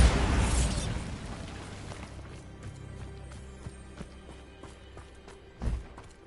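A Bombarda spell explosion in Hogwarts Legacy opens with a loud booming blast that decays over about two seconds, followed by scattered clicks and a second, smaller thump near the end.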